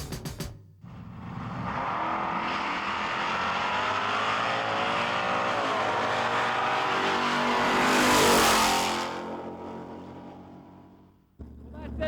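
Race cars run down the strip at St. Thomas Dragway with a sustained, loud engine roar. It swells to a harsh peak as one car passes close, then fades, and the noise cuts off abruptly at the end.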